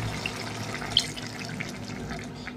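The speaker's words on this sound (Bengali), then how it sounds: "পোস্ত বাটার জলটাও দিয়ে দেবো।" Water from poppy seed paste is poured into a pot of ridge gourd and potato posto curry, a soft, faint trickle with one small splash.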